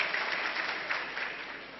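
Audience applause at a Hindi-language motivational seminar: a dense, steady wash of many hands clapping together, continuous and fairly even throughout without pauses.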